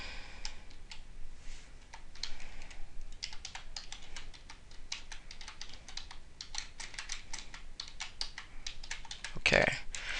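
Someone types on a computer keyboard close by, irregular quick keystroke clicks running almost continuously with brief pauses, and a louder clack near the end.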